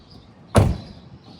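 The driver-side cab door of a truck gives a single sharp mechanical clunk, close and loud, as its lock is worked during an inspection.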